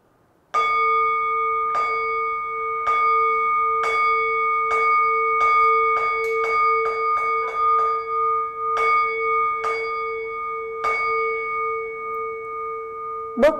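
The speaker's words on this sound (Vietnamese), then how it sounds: "Bước thứ hai là đến một hồi chuông." A Buddhist ritual bell is struck over and over in a continuous ceremonial series, the strokes spaced irregularly and quickening in the middle, each ringing with a sustained metallic tone that blends into the next.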